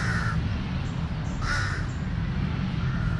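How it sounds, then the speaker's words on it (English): Crows cawing in an old palace park in Bangkok, a few harsh calls spaced across a few seconds over a steady low hum of city and park noise. "Something spooky about these types of birds."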